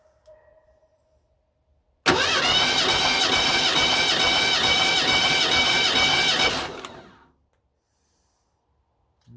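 A 1987 Cougar engine with 375k miles cranking on the starter during a compression test, a steady loud whirring churn lasting about five seconds that starts abruptly and fades out, with quiet before and after.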